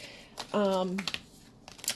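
Tarot cards are shuffled by hand, giving quick papery flicks and clicks at close range around a brief spoken phrase.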